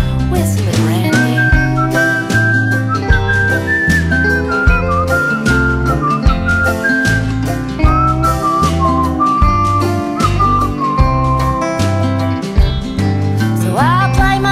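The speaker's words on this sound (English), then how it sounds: "Whistle it" A person whistles a clear melody in a country song, carried over a steady acoustic band backing for the whole stretch.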